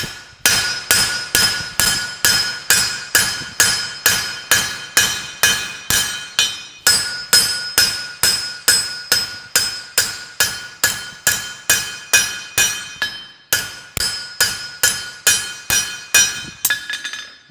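A blacksmith's hammer strikes hot metal on an anvil while flattening and fullering a bar, ringing out in a fast, steady rhythm of loud, bright blows with brief pauses between runs.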